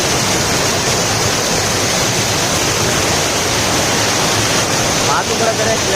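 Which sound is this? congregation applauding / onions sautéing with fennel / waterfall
waterfall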